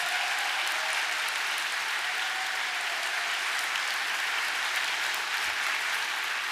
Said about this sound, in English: So a huge round of applause for Redcoats.